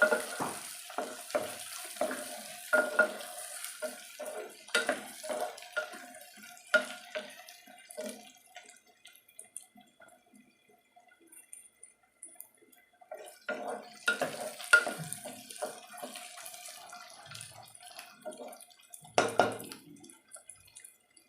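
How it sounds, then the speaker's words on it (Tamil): Brinjal sautés in oil in a pan for goat brain brinjal kulambu, with intermittent spoon scrapes and clatters in two busy bursts separated by a quieter stretch of faint sizzling, close and fairly soft. "பாருங்கள், கத்திரிக்காய் நல்லா வதங்கிட்டு இருக்குது"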